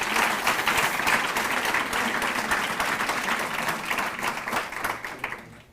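Dense audience applause at a youth conference session, many hands clapping steadily and fairly close, holding level throughout before tapering off at the very end.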